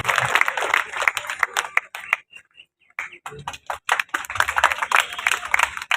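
An audience claps to welcome a speaker at a political gathering in Dwarka, Delhi, with brisk scattered applause that drops briefly to near silence before picking up again.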